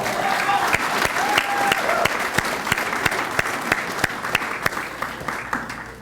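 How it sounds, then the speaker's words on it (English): An audience at a high school athletic hall of fame ceremony applauds steadily for several seconds, a dense, even wash of clapping with some sharper individual claps standing out, and a voice heard faintly beneath it. "Give him one more round of applause."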